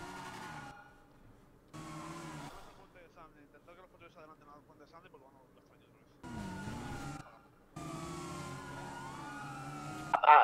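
A police car siren wails in the Overlife video game, rising and falling in several separate bursts that come and go. Someone speaks between and over the siren passages.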